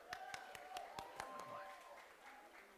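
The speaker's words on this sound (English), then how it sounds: "Give a big cheer for Liam." Student-union results-night audience applauds and cheers for a newly announced officer, a steady wash of clapping with sharp claps standing out, mid-distance and moderately loud throughout.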